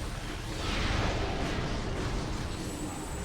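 Super missiles from Samus's arm cannon in Metroid Prime, fired at heavily armoured turrets aboard the Sunken Frigate: a continuous loud, rumbling wash of blasts and booming impacts filling the whole stretch, with no talking.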